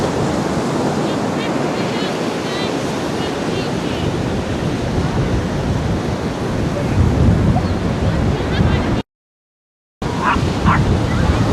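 Steady roar of sea surf and breaking waves at Widemouth, North Cornwall, with wind buffeting the microphone, continuous and loud, briefly cutting out near the end.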